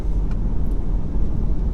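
The LT2 pushrod V8 of a mid-engine C8 Corvette Stingray Z51 accelerates, a dense, loud low rumble heard from inside the car, continuous and without speech.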